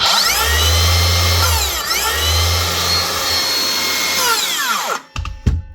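A Makita XSH06 36V cordless circular saw, newly repaired, runs its motor at full speed with a loud, close whine. The pitch dips and swells a few times before it spins down.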